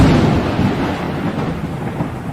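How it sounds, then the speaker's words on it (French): Thunder rumbling through a thunderstorm, a loud, deep, sustained roll that slowly fades, with rain hissing underneath and no voices. "un éclair, un grondement qui fait trembler la terre et ses habitants"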